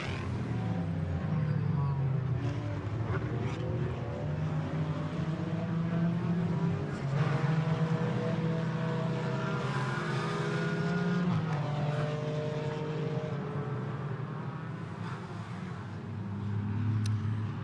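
GT4 race cars on the Misano circuit heading toward turn one, engines droning and rising in pitch as they pass, a continuous loud roar throughout with a commentator talking over it.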